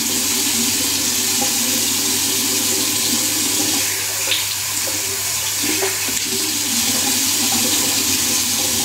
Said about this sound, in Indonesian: Enak banget cuci muka